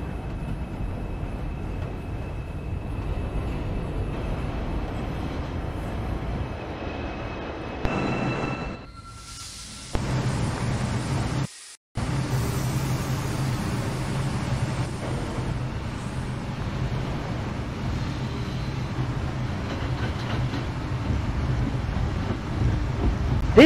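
An NYCT R142 subway car on the 3 line bound for New Lots Avenue runs in Trainz 2019, giving a steady low rumble with wind-like rushing that briefly drops out before the even roar resumes.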